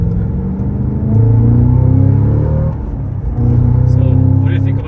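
A Cadillac CT5-V Blackwing with a six-speed manual accelerates hard, its engine rising in two loud droning pulls separated by a gear change, heard from inside the cabin.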